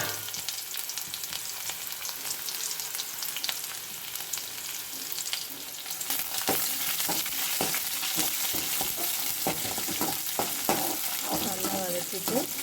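Cooked rice being sautéed and stirred in a hot pan, a steady close sizzle with frequent scraping and stirring clatters that grow busier and louder partway through.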